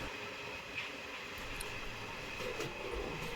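A passenger train on the Machilipatnam to Visakhapatnam run rumbles steadily from inside a carriage, a low continuous drone with faint rail clatter and occasional light squeaks, no talking.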